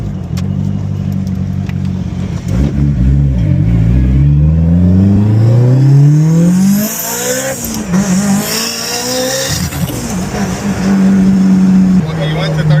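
A 700HP Mitsubishi EVO 8 engine revs and accelerates under throttle, rising and falling tones sweeping up repeatedly through the gears, loud and close, with a voice talking over it.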